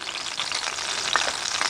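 Pork crackling sizzling in a woodfired oven, a steady, loud, crackling hiss of fat frying with occasional sharper pops, continuous throughout and close.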